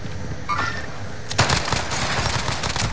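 Dense, rapid gunfire crackles steadily in a video game firefight, loud and close, with a sharper burst partway through and no talking.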